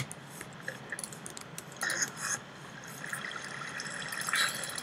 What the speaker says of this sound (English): I've got a water bucket!